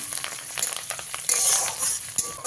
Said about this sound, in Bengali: গ্যাসের ফ্লেমটাকে একদম লোতে রেখে এক থেকে দু মিনিট ভেজে নেব